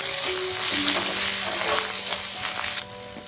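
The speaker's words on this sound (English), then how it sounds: "Roast the green chilies for 30 seconds." Chopped green chilies roast in golden-browned garlic in an iron pan, giving a loud, close, continuous sizzle and crackle that eases slightly near the end, with no talking.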